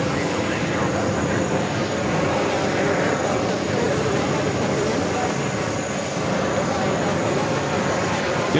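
Jet airliners at New York's JFK airport produce a steady, broad engine roar that holds through the whole stretch, with faint voices talking underneath.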